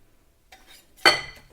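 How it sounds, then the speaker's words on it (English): Thick mashed banana is scooped and plopped into banana bread batter in a bowl, then stirred with a utensil. A soft tap comes first, then a louder wet stirring scrape that fades out, with no talking. "We're going to add in the bananas. Sort of glop that in."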